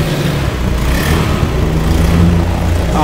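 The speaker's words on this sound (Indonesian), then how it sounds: "Motornya hidup ya." Honda Scoopy FI scooter engine, just started after a fuel pump repair, running steadily at a loud, close idle for a few seconds with no one speaking.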